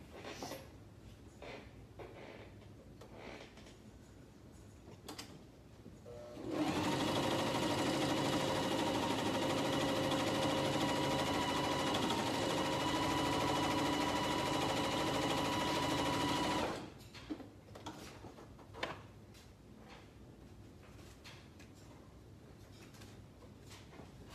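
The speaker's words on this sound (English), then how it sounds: "I just top stitched that other armband" A sewing machine top stitches a fabric armband, running in one loud, steady ten-second burst between quieter stretches of small handling clicks and taps.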